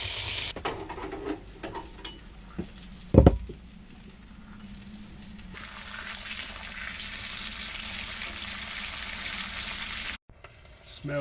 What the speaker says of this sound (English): Smell pretty much a good sear on there now.